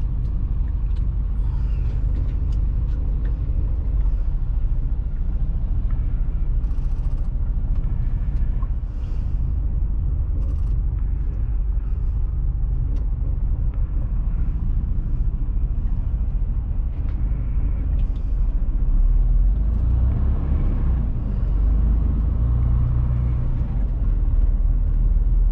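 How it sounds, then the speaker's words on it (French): Heavy trucks arriving to load at a DHL site in Wallonia, Belgium, with roadworks nearby, keep up a steady, loud diesel rumble and idling drone throughout, with brief brake hisses now and then and no voices. "Plus ici c'est un peu le bordel parce qu'il y a des camions qui viennent charger."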